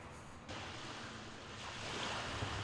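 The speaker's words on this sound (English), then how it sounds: "Waves rolling in and gently caressing the sand." Ocean waves roll onto a tranquil, remote stretch of beach in a steady, broad wash of surf that swells slightly louder toward the end, with no voices.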